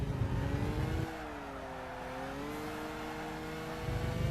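A 1980s Japanese race car at full throttle in Gran Turismo 5, its engine note climbing steadily and loud, dipping through a shift and building again, with no talking.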